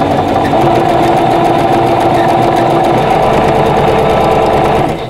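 A sewing machine stitches a quilt border in one steady, loud, continuous run of rapid mechanical whirring that eases off only at the very end.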